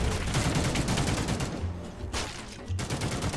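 Dense, rapid gunfire from The Mean Greens - Plastic Warfare, a toy-soldier shooter game, rattles almost continuously as overlapping loud bursts, easing briefly near the middle before firing picks up again.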